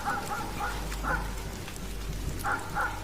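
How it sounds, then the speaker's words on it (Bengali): Several dogs bark together on a stormy, rainy night, short bursts of barking rising and falling over a steady wash of rain. "একসঙ্গে অনেকগুলো কুকুর ডাকছে"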